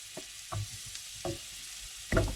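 A beef liver and brie sandwich fries in butter in a pan, giving a quiet steady sizzle broken by a few soft scraping and pressing sounds.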